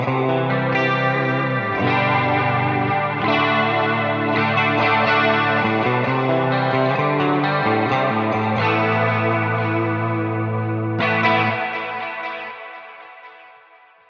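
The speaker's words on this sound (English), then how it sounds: "When I go to scene number 2, I turn on the chorus pedal as well." Lush electric guitar chords through a Hotone Ampero II Stage with a chorus pedal, delay and reverb: shimmering chorus, trailing delay and reverb, playing steadily then ringing out and fading over the last few seconds.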